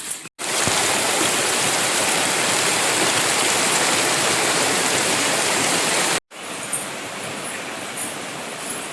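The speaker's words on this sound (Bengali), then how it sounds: "এই যে কি বৃষ্টি, জিনিসপত্র শুকাচ্ছে না" Heavy rain pouring down steadily and loudly at close range in a Sundarban village, a dense continuous wash that drops out briefly twice, with no voices.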